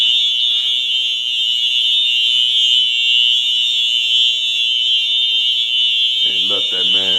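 A courthouse fire alarm blares at a loud, steady, piercing pitch without a break, with a voice briefly cutting in near the end.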